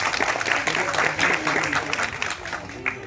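Audience applause at a Tamil film's audio launch event, a sustained wash of clapping from a crowd with a speaking voice audible over it.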